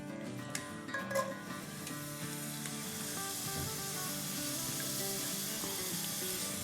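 Sliced onion hits two tablespoons of oil in a pan over medium-high heat, giving a soft continuous sizzle with a few clinks early on and no talking.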